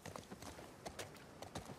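Horse hooves clip-clop in a steady, fairly loud rhythm as a rider travels on horseback in The Last of Us Part II, the beats coming close and clear with nothing else prominent.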